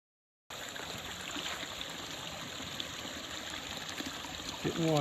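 A backcountry mountain stream in a Colorado drainage trickles and gurgles steadily at close range while water is collected, ending with a brief splash or gush.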